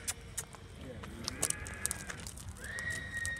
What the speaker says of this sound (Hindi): बेहतरीन मारवाड़ी घोड़ी आई है अबलक, आइए परिचय करवाते हैं गणेश जी को।